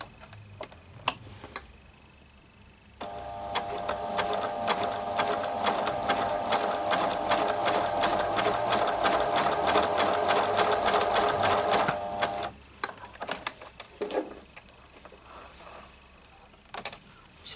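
A Pfaff classic-style quilting sewing machine stitches at a steady fast pace for about nine seconds, a loud, close mechanical whirring chatter, with scattered clicks and handling taps before and after, no talking.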